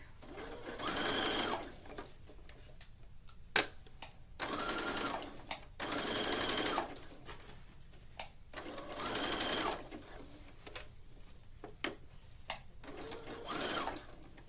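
A sewing machine runs a zigzag top stitch over elastic on a tankini top, working in several separate bursts of rapid stitching with short pauses and clicks between them, heard close and clear.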